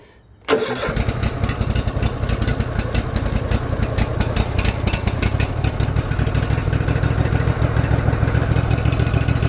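A Cub Cadet ZT1 zero-turn mower with a 54-inch deck catches after choking and settles into a loud, steady running engine drone, close by and continuous with no talk.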